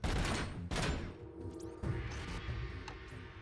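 Gunfire in Robocop: Rogue City arrives as a few heavy shots and bursts among booms and thuds, with ricochet-like whines between them, moderately loud and with no speech.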